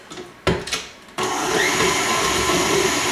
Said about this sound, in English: I'm going to blend it a little bit here